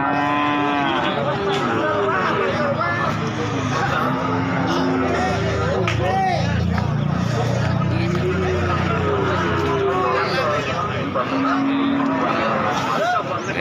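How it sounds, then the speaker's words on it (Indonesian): Pegon cattle at a village livestock market moo repeatedly, several long calls near and loud over steady crowd babble and people talking. "ini adalah sapi pegon"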